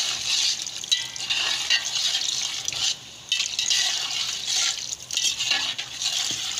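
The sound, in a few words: pouring water into a pot of green masala kofta biryani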